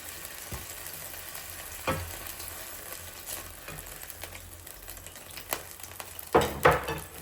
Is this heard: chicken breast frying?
yes